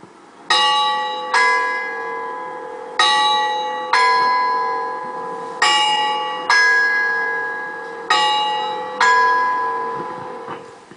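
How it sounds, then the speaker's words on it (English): Eighteenth-century mechanical quarterjack figures at Christ Church clock in Bristol strike the bells for the quarter hour, eight clear ringing bell strokes in pairs, each tone decaying slowly, moderately distant with no talk. "every quarter of an hour they strike the bells over the clock"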